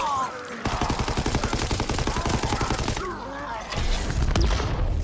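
Rapid automatic gunfire from a special weapon in a zombie shooter game rattles in a dense, steady burst, then breaks off into scattered shots and crashes as game effects clatter.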